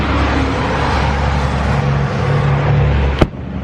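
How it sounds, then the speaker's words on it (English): Traffic rumbles steadily along a busy street, a low continuous wash of passing vehicles heard nearby, ending in a sharp single knock or bang near the close. "Super busy street that this thing's on."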